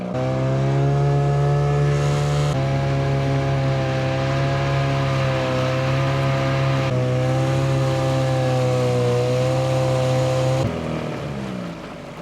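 A motorboat engine drones steadily and loudly at close range on a lake in northern Wisconsin, its pitch shifting slightly a few times before easing off at the end.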